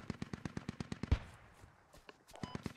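Rapid automatic gunfire in the military shooter game Squad, a close burst of evenly spaced shots followed by a heavy blast, then scattered quieter shots further off.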